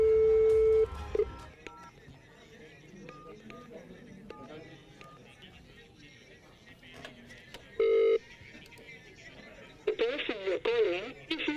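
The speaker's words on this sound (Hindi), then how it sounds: "ये पता लगाने के लिए हमने इस इंटरनेशनल नंबर पर कॉल की।" Phone line sounds from a call to an international number on speakerphone: steady tones, short beeps and a warbling tone toward the end, with someone talking softly in between.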